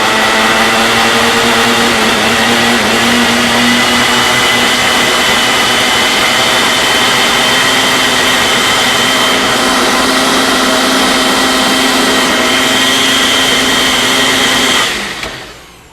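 A blender runs steadily for about fifteen seconds while mixing a protein shake, a loud, even motor whine that cuts off abruptly at the end.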